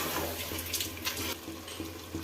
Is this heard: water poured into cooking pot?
yes